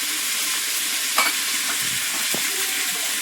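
Tomato and salt fry in a pan for a home-style big fish curry, giving a steady, close sizzling hiss with a soft knock of a utensil and a brief scrape near the middle.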